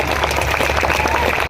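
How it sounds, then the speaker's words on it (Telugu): A large crowd at a live Nellore stage event applauds in tribute to a singer, a loud continuous wash of clapping with a hum of crowd noise. "సో మీ అందరి చప్పట్లతో మరోసారి ఆ మహనీయుడికి"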